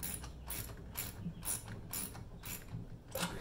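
A ratchet wrench tightens the last bolt on a garden cart, giving a run of quick, crisp clicking bursts in a steady back-and-forth rhythm, close and fairly quiet, with no talking.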